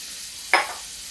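Cumin seeds hit hot oil in a pan with a sudden loud burst of sizzle that quickly fades back to a low hiss.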